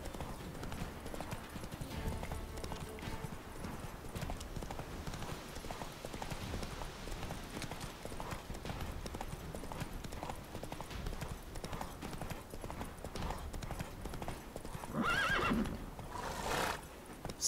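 Steady clip-clop of horse hooves at a brisk gallop in the video game The Witcher 3: Wild Hunt, continuous and fairly close, with a horse whinnying near the end.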